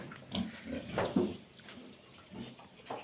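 Low, rough grunts from a sow come in a few scattered bursts against a steady background hiss, fairly close and moderately loud.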